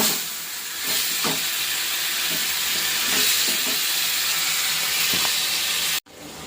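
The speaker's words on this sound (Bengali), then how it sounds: "এভাবে ভালো করে একটু কষিয়ে নেব।" Spices and onions sizzle steadily in a hot pan while being sautéed in a Bengali home kitchen, a continuous hiss with a few soft stirring knocks, ending with a brief cutoff.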